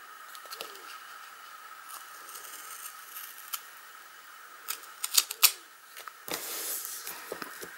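Excess cardstock is trimmed during card making: quiet background, then a few sharp snipping clicks and a brief rasping cut near the end, close and alone without talk.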